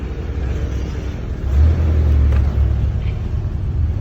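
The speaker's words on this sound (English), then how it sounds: "So I realized that this car's not the quietest inside." Low engine rumble from a 1981 Chevrolet Corvette C3, heard from inside the cabin while driving, a steady drone that swells louder in the middle and then settles back.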